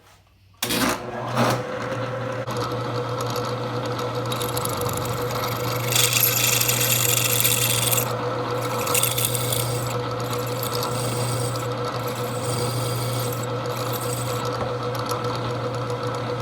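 A drill bores the tap-drill hole for an M6 helicoil in a Cummins 4BT engine part from a 1974 Ford F-250 build. The bit kicks in abruptly and holds a loud, steady, close whine, alone and without talk.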